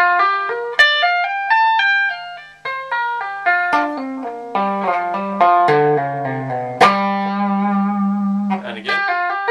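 A string-skipping guitar lick, played slowly: separate plucked notes ring and decay one after another, with a driven, slightly distorted tone, close and alone.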